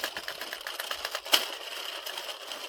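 Rows of waste yarn being cranked through an Addi 22-needle circular knitting machine, a rapid run of light clicking and ticking with one sharper click partway through, close and steady with no talk.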